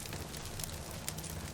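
A wood fire crackles steadily with a low roar of flames, a dense, even bed of soft pops and hiss with a couple of sharper snaps, fairly faint and heard alone without voices.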